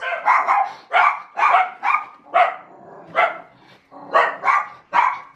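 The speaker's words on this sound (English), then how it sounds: "Such good guard dog." A protective guard dog barks in a series of about a dozen sharp, loud, close barks in an irregular rhythm, with short pauses between bursts and no talking.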